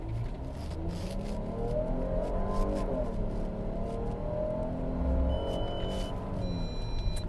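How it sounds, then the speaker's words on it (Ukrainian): A 2021 Jeep Cherokee's 3.2-litre V6 engine revs hard accelerating from a standstill, its growl rising steadily and staying loud and continuous with no voices. "Досить приємний звук двигуна V6."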